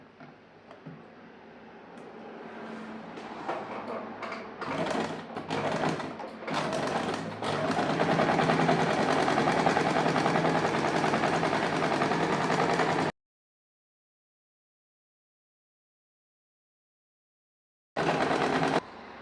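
A sewing machine runs continuously while stitching the seam of a straight pant, starting with a few short bursts and then humming steadily at close range before cutting off abruptly and starting again briefly.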